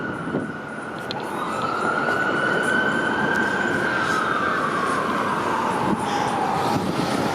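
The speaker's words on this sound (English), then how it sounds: "I hear more sirens." Emergency vehicle siren wailing along a downtown Toronto street, a sweeping rising-and-falling tone that holds loud and steady over constant traffic and city noise for several seconds.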